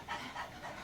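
Rapid, breathy panting from a group of students imitating a dog during a public speaking workshop exercise, a steady rhythmic huffing that runs through the whole short moment.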